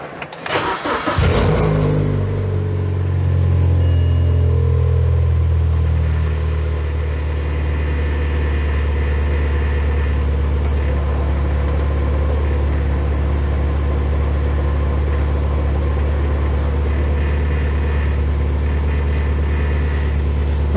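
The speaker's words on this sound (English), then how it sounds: "let's try starting the car." A BMW 116i engine cranks briefly and catches, then settles into a steady, even idle that runs on for about twenty seconds with no talk over it.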